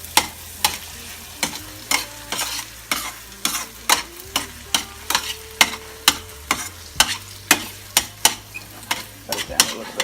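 Alfredo sauce, peppers and vegetables stirred in a hot pan, a steady sizzle under regular scraping strokes of a utensil, roughly two per second, close and clear.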